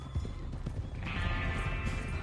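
Horse hooves clip-clop steadily on the ground in Red Dead Redemption II, a dense, close run of hoof beats over a low rumbling background with a faint higher tone joining midway.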